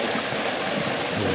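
Water pours steadily over a beaver dam on a small taiga stream, giving a close, continuous rushing hiss with no voices.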